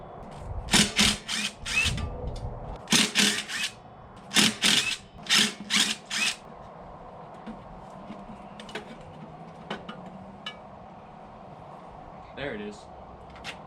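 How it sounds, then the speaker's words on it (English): 8mm wrench or power driver taking bolts off a Briggs and Stratton engine, several short loud ratcheting bursts close up in the first half, then sparse faint clicks and handling noise. "with the same 8mm, we gotta take off all of these bolts"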